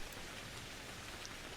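Dense, steady rain ambience in a tabletop role-playing game session, a loud hissing wash of falling drops with no voices, continuous for the whole short stretch.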